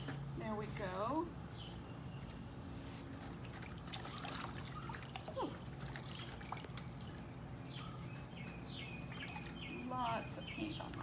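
Water sloshes and trickles as a paint-covered foot is washed in a bucket, close and continuous, while birds chirp outdoors and a person makes a brief exclamation.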